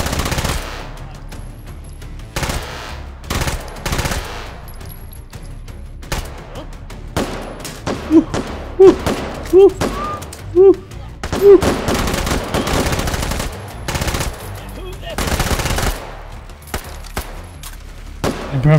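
Gunfire in the VR shooter game H3VR: many loud, sharp shots, some single and some in quick bursts, spread irregularly through the stretch, with a few higher pitched pings in the middle and no talking.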